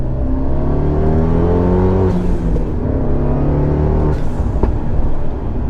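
A Fiat 124 Spider with turbo boost, noted as misfiring at idle, pulls from second into third gear: a loud, close engine drone rises in pitch, drops briefly at each shift, then climbs again.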